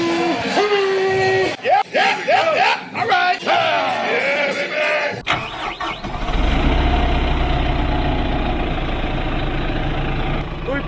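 A Kubota M6142 tractor engine cranks and settles into a steady, loud, low idle in the second half of the clip, after a stretch of music with a voice singing over it.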